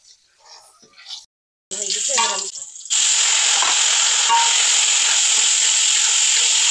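Garlic frying in oil in a wok, heard as a loud steady hiss and sizzle taking over after a few seconds of quieter clatter and a brief muffled voice at the start.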